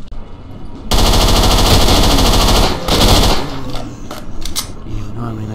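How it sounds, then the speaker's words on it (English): Pistol gunfire in the video game STALKER: Shadow of Chernobyl: a loud rapid string of shots crackles for about two seconds, then a few fainter scattered cracks follow. "I'm just shooting pistol round at them"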